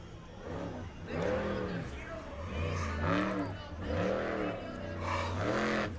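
A monster truck engine revs repeatedly in rising and falling surges as the driver attempts a donut at an outdoor arena, loud and fairly close, with faint talk over it.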